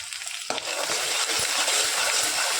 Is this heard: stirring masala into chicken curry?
yes